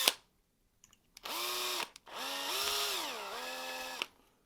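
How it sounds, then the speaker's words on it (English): A power drill bores holes in a 3D printed plastic barrel ahead of an M2 tap, giving two whining bursts that rise, dip and settle in pitch, heard close with no talking. "I've got the appropriate size drill bit for an M2 tap. So I'll just drill those out"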